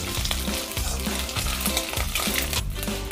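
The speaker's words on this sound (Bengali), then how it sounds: "এইভাবে আমি আদাটাকে একটু ভেজে নেব।" Ginger paste fries in hot oil in a pan, an unbroken loud, close sizzle with a few soft stirring scrapes and no voices.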